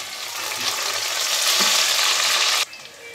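Softened onions sizzle in a pan with a bay leaf and green chillies for chicken khichuri, giving a loud, steady crackling fry with faint stirring scrapes that suddenly drops much quieter near the end.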